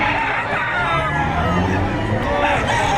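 A rooster crows amid a busy livestock auction market in Padre Garcia, Batangas, its call rising over a steady hubbub of crowd babble and nearby chatter.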